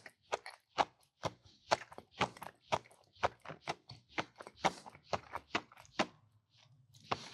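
Crunchy chewing of a Tim Hortons donut covered in sprinkles, a close, steady series of about twenty sharp crisp bites and grinds, with no talking.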